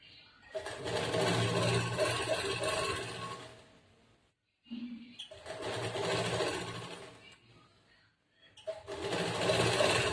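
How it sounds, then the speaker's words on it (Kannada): A sewing machine runs in three bursts of double stitching along the collar neck of a blouse, each run steady and fairly close, with brief pauses between them. "ಡಬಲ್ ಸ್ಟಿಚ್ ಮಾಡ್ಕೋಬೇಕು, ಸಿಂಗಲ್ ಸ್ಟಿಚ್ ಹಾಕಬಾರ್ದು"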